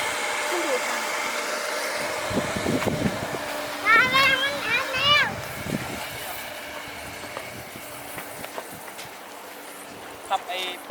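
An electric water pump runs at night on a farm plot, pumping water to irrigate cucumbers, a steady droning whir heard close by while people talk over it and small chirps sound in the background.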